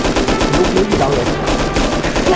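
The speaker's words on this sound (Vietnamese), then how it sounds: "bên ngoài thì tiếng đạn tiếng súng" Rapid gunfire in a video game, a continuous loud burst of automatic shots in a fast, steady rhythm that fills the whole stretch.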